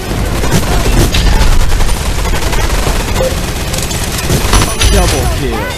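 Sustained minigun fire in the shooter game Gun Raiders, a dense continuous rattle of rapid shots with occasional louder bursts, mixed with game effects and players talking over it.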